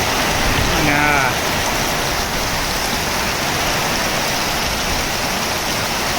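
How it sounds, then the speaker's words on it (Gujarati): Heavy rain pours steadily during a thunderstorm in farm country near Rajkot, a dense, continuous hiss of drops on surfaces with a brief faint tonal sound near the start, loud and unbroken throughout. "ને વરસાદે જો પાણી પાણી કરી દીધું."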